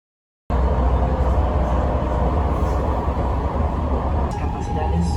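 Steady rumbling interior noise of a light rail train on the F line in Burien, a dense continuous roar with faint rattles, heard from inside a moving car after a silent start.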